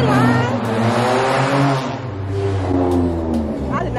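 A car engine revs loudly and holds a deep, droning roar that rises and falls over several seconds, close by, with faint crowd noise behind it.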